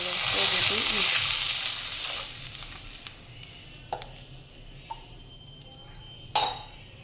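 Mustard seeds and cumin tempering in hot oil for Kathiyawadi kadhi, a bright steady sizzle that is loud at first and then dies down, followed by a few faint utensil clinks and a sharper clink near the end.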